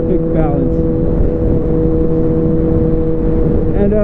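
A 2013 Kawasaki 636 motorcycle engine in sixth gear, a loud steady close-up drone with a strong constant hum and wind roar, holding an even pitch throughout.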